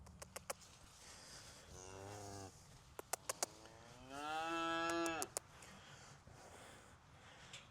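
Cows on a farm give two long, loud moos, the second one deeper and stronger, with sharp clicks and knocks scattered between them.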